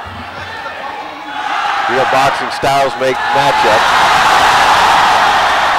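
Crowd noise rises and swells at a lightweight amateur boxing bout, a broad roar and cheering that persists loudly under a commentator's ongoing talk.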